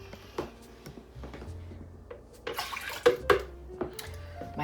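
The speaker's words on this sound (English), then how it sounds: "Next, I'm going to put my half a cup of cold water in" Cold water poured into a blender pitcher, a soft trickling splash with a few clinks and knocks, quiet and close, no talk.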